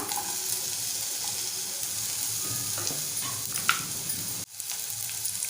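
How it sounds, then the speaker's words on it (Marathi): Finely chopped bitter gourd hitting a pan of browned onions, a steady close sizzle of frying with stirring scrapes, then a sudden brief drop before the hiss resumes. "आता आपण बारीक चिरलेली कारील घालूया"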